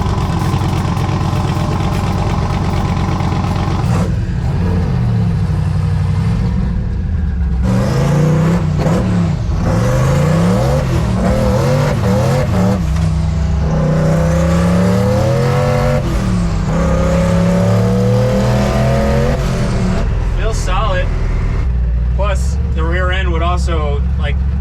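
A twin-turbo Chevrolet C10 stepside truck with air suspension and a Watts link on a test drive, its loud engine droning and rising and falling through gear changes, up close and steady throughout.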